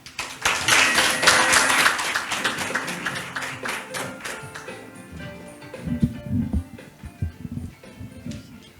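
An audience at a Gwangmyeong lifelong-learning forum claps to welcome a university education professor giving the keynote. Dense, fairly loud applause fills the first few seconds, then thins into scattered claps and low murmurs.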